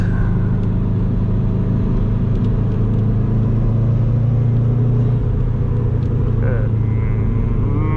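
A Bugeye car engine with 315k miles, pushed hard after sitting for months, drones steadily at close range while driving, revving and rumbling continuously with a brief shift in pitch near the end.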